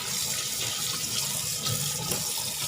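Tilapia is rinsed under a running kitchen tap, making a continuous close splashing stream of water that stays even throughout with no voices.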